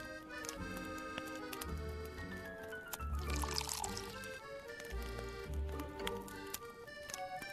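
Liquid pours and trickles during a flour-and-water stirring puzzle in the Dark Tales: Masque of the Red Death game, with soft clicks and ticks over a low, sparse music bed.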